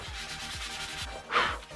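A wooden sign is hand-sanded in quick rhythmic back-and-forth strokes, about two or three per second, with a raspy scraping that swells briefly louder near the end. The sound is close and carries no speech.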